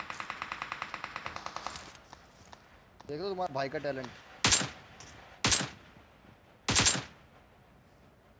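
Gunfire in the mobile game PUBG Mobile: a fast automatic burst rattles for about two seconds, then three separate heavy single shots follow, with someone talking between them.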